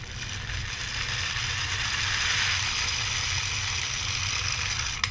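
A hand-cranked mechanism spins a disc with a steady whirring, grinding rattle of turning gears, close and fairly loud, holding an even level throughout before a small click at the very end.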